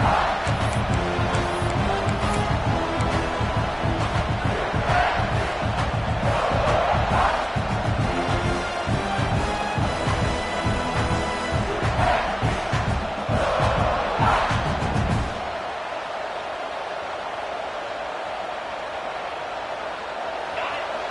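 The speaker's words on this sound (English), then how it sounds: "Listen to the crowd energy here in the early going." A large stadium crowd in a college football video game roars and cheers loudly over game music, then the noise drops to a quieter hum near the end.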